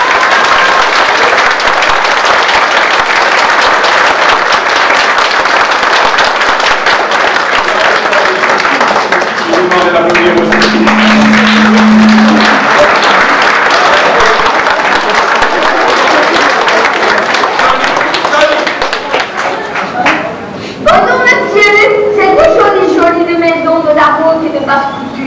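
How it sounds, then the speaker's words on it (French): Audience at a Villers-le-Bouillet event applauding Madame Henriette Brenu, a long, loud spell of dense clapping close to the listener, with voices and chatter mixed in and speech rising clearly as the applause fades toward the end. "tout le monde applaudit"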